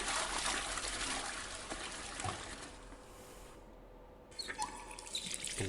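Hot water running from a tap in the horror game Portrait of a Torn, a steady close rush that briefly drops away midway before the flow picks up again.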